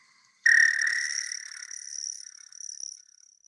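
A backyard frog call, high-pitched and cricket-like, rings out as one sustained buzzing trill after a moment of quiet and wavers gently as it fades, close and clear with no voices.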